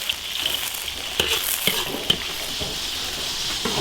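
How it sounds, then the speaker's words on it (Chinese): Scallion, ginger, onion and celery frying slowly over low heat in hot oil, giving a close, steady sizzle with bursts of crackling and spitting and no voices. "葱姜洋葱、芹菜，把它的香味炸出来。"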